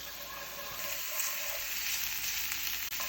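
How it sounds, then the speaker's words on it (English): Red shallots fry in a pan with a steady, close hiss of sizzling oil, bright and continuous throughout with no talking. "where you're cooking red shallots, you want to make sure you don't overcook it"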